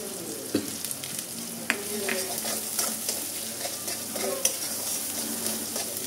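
Chili powder, chopped green chilies and salt fry in hot oil in a pan for a dal bora dish, sizzling steadily while a utensil stirs and scrapes at irregular intervals close up, with no voices.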